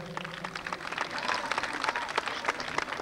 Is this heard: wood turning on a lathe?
no